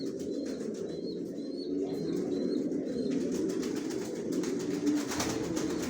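Racing pigeons of Dutch and Chinese import lines coo steadily in a loft, a dense low murmur with occasional wing flutters and faint chirps over six seconds.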